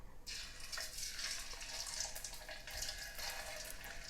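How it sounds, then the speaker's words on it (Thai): Sun-dried snakehead fish sizzles in hot oil in a pan, a steady, loud, hissing crackle that carries on throughout without any voices. "เราก็เอาปลา ที่เราเตรียมไว้ ลงไปในกระทะเลยค่ะ"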